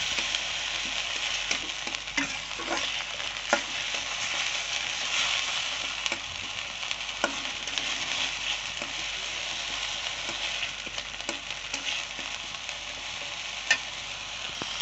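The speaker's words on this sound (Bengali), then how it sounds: "তেলটা গরম হয়ে গেলে পেঁয়াজ, রসুন, আদা দিয়ে দিলাম, দিয়ে নাড়াচাড়া করলাম।" Onion, garlic and ginger frying in hot oil in a wok, a continuous close crackling sizzle with scattered pops and occasional scraping stirs throughout.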